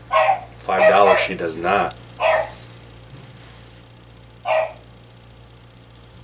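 A dog barks in the background in a few sharp bursts separated by pauses, while people talk nearby.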